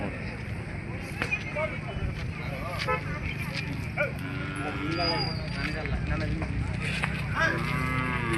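Cattle and bullocks moo repeatedly amid a busy outdoor crowd at a livestock fair in Madhugiri, with people talking nearby and a dog barking now and then.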